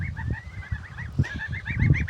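Young geese peep in a continuous series of soft, high chirps, with low rustling and shuffling noises close by underneath.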